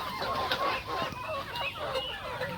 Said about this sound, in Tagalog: masisigla ang ating mga alagang manok